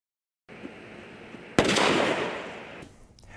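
Consumer fireworks go off in a sudden sharp crack followed by a loud, sustained crackling burst that fades over about a second, alone with no voices.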